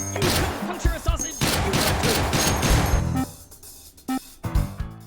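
Team Fortress 2 weapon fired in the VR game H3VR, a dense burst of rapid gunshots for about three seconds followed by a few isolated, sharper single shots after a brief pause.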